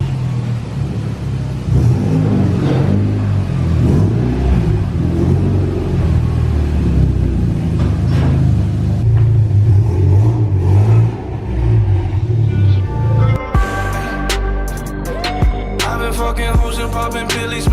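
A car strapped to a dyno on 93 octane fuel roars through a sustained full-throttle pull, its loud engine rumbling and climbing in pitch before the revs sweep up sharply toward the end.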